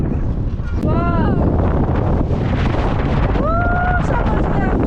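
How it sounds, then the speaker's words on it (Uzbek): Strong wind buffets the microphone with loud, continuous roaring gusts on a hillside walk; two brief whistling or voiced tones rise over the noise. "Shamol juda kuchli."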